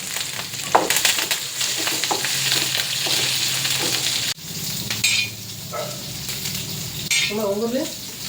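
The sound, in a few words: garlic, coriander and curry leaves frying for ridge gourd tempering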